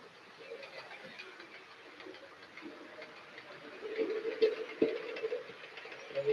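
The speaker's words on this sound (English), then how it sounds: "you can hear the clicky clack sound as the train goes along the track" A model train on a single-line layout clicks and clacks along its track in a quiet, steady rhythm of small ticks, fairly faint, growing slightly louder toward the end.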